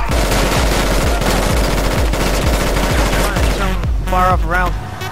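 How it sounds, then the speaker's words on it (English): Rapid automatic gunfire in Battlefield 2 Project Reality, loud and close, a dense rattling stream of shots with a brief pause near the end as a voice speaks over the firing. "Shots fired!"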